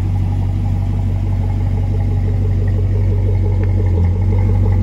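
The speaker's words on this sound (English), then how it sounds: "Aftermarket exhaust." A 5.3-litre LS V8 in a 2011 Chevy Colorado truck with aftermarket exhaust idling with a deep, throaty exhaust rumble, steady and loud at close range with no talking.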